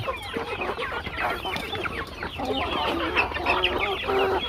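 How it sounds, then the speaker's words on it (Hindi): A crowd of native desi chickens clucks busily and continuously while eating rice, overlapping calls close by with soft pecking and shuffling underneath. "इस तरह धूम रहती है हमारी देसी मुर्गियों की चावल खाने की।"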